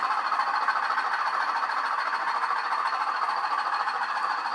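A model train rumbles steadily along the track with a continuous rolling hum and faint rattling, close and even throughout, no voices.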